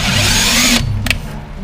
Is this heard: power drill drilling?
yes